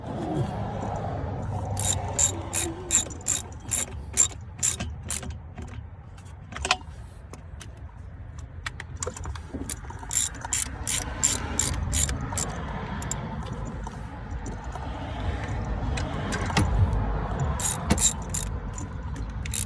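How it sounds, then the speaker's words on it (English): An old ratchet wrench tightens a vacuum pump bolt on a 2013 Ford Focus ST turbo, giving bursts of rapid, close metallic clicking separated by short pauses and faint handling noise. "I have an old ratchet. I like it."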